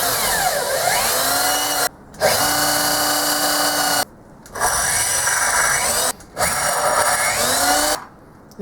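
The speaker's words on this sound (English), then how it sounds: "I'm going to have to hand drill this because there's no way I'll be able to hold that in the drill press vise." A hand drill bores a hole in a metal lathe tailstock part, whining in three long bursts separated by brief pauses, close and loud with a rising and falling pitch.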